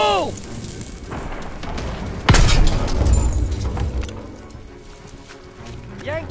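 A grenade blast in the Call of Duty WWII mission Hill 493, a sudden loud boom midway with rumbling debris trailing off, amid battlefield noise and shouted voices.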